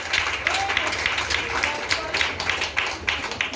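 A wedding congregation in church applauding the newly married couple, a moderate round of irregular clapping from many hands, with voices murmuring underneath.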